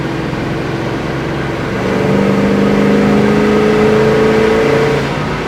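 A 1970 Chevrolet Chevelle engine pulls hard under acceleration, its steady mid-range drone rising in pitch and swelling louder partway through, heard from inside the car with no talking.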